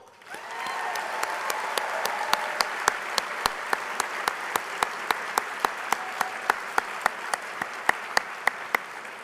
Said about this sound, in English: if you could please join me in one last round of applause for tonight's dinner sponsor